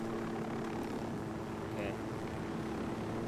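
Helicopter in the video game Ghost Recon Wildlands, a steady loud rotor and engine drone filling the whole stretch, with voices faintly under it.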